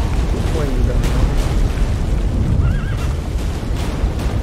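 The horse Roach neighs a couple of times in The Witcher 3, short whinnies over a low ambient rumble, with someone talking in between.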